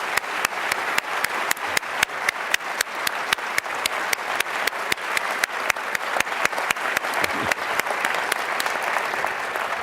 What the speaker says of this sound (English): Could we have one more round of applause for this remarkable speech?